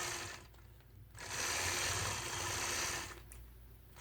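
A sewing machine quilts straight ruler-guided lines through a nine-patch quilt block, giving a soft, close whirring run of about two seconds between quieter mechanical pauses.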